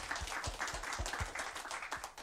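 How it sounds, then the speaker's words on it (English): A small livestream audience claps steadily for a couple of seconds, the individual hand claps clearly spaced and fairly close. "let's clap for that"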